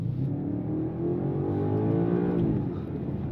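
A 2025 BMW M5 with optional carbon ceramic brakes braking hard on a downhill, its engine note a steady close-up drone with harmonic tones falling in pitch as it slows, no talk over it.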